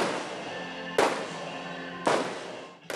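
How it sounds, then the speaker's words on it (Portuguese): Three heavy cannon blasts of the Military Police's ceremonial 21-gun salute opening a Tiradentes Day medal ceremony in Brazil, evenly spaced about a second apart, each booming loudly and rolling off in a long echoing decay. "A tradicional salva de 21 tiros da Polícia Militar marca o início da cerimônia"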